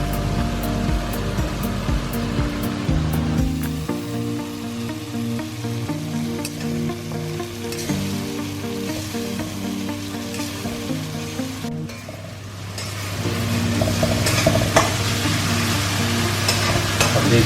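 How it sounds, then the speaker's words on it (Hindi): Masala spices fry in a pan for restaurant-style lemon chicken, a steady crackling sizzle with a stir partway through, briefly dipping then returning stronger and louder near the end; no voices. "मसाला के भूनने का वेट करते हैं"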